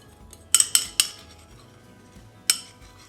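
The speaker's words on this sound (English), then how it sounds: "we're just going to mix all of that together" Cookie dough being mixed with egg and golden syrup in a bowl, several sharp metallic clinks of a utensil against the bowl in a quick cluster and then one more, with quiet gaps between.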